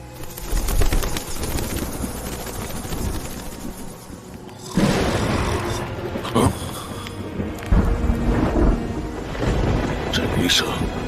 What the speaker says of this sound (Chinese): 这雷声听上去不太对。